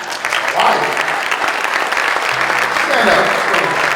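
An audience claps steadily at a gathering honoring Jerome Bettis, the dense patter holding loud and even throughout, with a voice talking faintly underneath.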